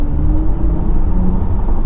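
A 2022 Audi RS e-tron GT electric car in dynamic drive mode gives a steady synthetic hum with a low whirring tone under road rumble, continuous and close from inside the cabin.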